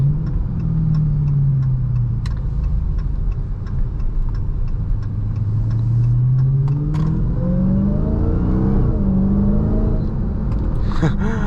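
A Dodge Charger Hellcat Widebody Jailbreak accelerates hard with its wheels spinning as it fights for traction. The loud engine roar sweeps up steadily through the gears over a constant rumble, close by and without talk.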